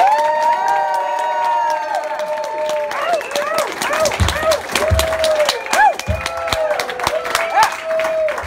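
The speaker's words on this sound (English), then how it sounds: "And applause." Audience at a live concert breaking into applause and cheering, a full crowd clapping steadily with whoops, while a musical tone holds over the noise and a voice talks through it.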